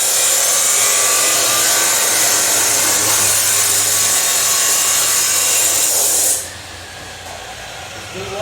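Loud, continuous grinding hiss of a 2020 Camaro SS 1LE exhaust pipe being cut, steady for about six seconds before dropping off to a quieter rumble.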